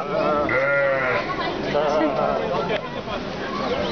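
Sheep bleating at a petting farm in Amsterdam, a few wavering calls close by, mixed with the chatter of people and someone talking over them.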